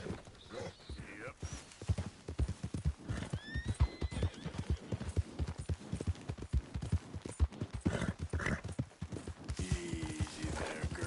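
A horse in Red Dead Redemption 2 gallops with rapid rhythmic hoofbeats and lets out whinnies, while a rider's voice speaks intermittently over the steady clip-clop.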